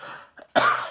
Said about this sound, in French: Désolé pour le fait que j'ai toussé.